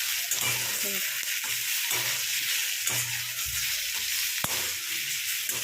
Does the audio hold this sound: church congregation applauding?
no